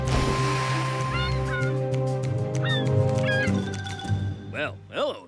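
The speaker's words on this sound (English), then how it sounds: "Follow that seagull!" Cartoon seagulls call in squawking, wavering cries over a busy music bed, with the loudest gull calls coming in near the end.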